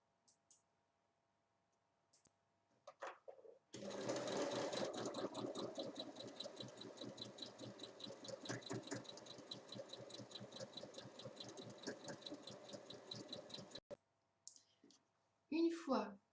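A sewing machine runs for about ten seconds, stitching a drawstring channel on a fabric pouch with a fast, even mechanical clatter, with a few handling clicks before and after.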